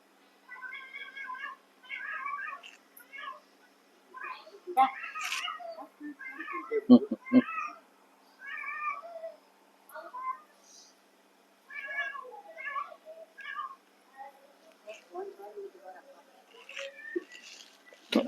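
A male cat meows again and again in short, repeated calls, a few of them drawn out into caterwauls, fairly close and with no talk over it.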